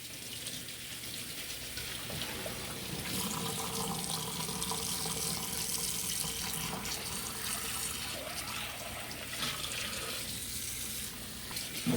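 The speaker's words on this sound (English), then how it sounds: "you want to run it in cold water." Cold tap water runs steadily over boiled naengmyeon noodles in a sink, a continuous close splashing gush that holds for the whole stretch with no voices.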